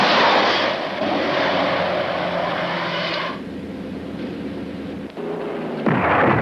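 Artillery guns and missiles firing in a 1970s British Army battlefield scene, heard as loud, sustained roaring blasts with a deep rumble, easing partway through before another loud burst near the end.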